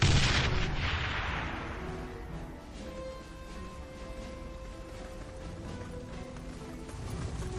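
Artillery fire in the video game Warhammer: Mark of Chaos, a loud opening boom fading into a rumbling tail, then a quieter battlefield bed of distant clatter, with another swell at the end.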